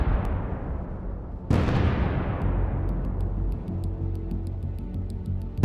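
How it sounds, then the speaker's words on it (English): An infantry fighting vehicle setting off anti-tank mines on a road, heard as a heavy blast with a long rumbling decay, then a second sharp explosion and lingering crackle as debris and fire continue. "The IFV hits one mine, and by inertia, strikes a second."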